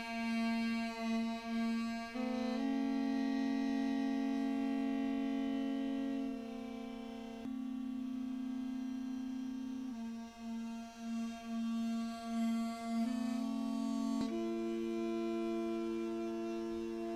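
Reconstructed Megara aulos, an ancient Greek double-reed wind instrument with large finger holes, plays alone in a buzzy, reedy sustained melody with sliding pitch changes and microtonal bends, loud and close.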